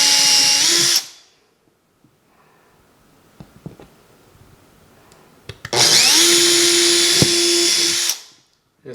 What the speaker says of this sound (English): Yep, so with that one I definitely hit the stud.